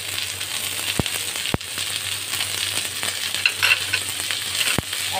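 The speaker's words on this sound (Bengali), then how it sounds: "এবার আমি এটাকে একটু নেড়ে নেব।" Capsicum, onion and mushroom with salt are stirred in a hot pan for a chilli mushroom dish: a continuous close sizzle with a few sharp spatula taps and scrapes against the pan, no voices.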